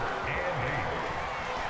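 Loud stadium crowd noise from the American football video game Madden NFL 25, a constant dense roar that stays level throughout with no clear peaks.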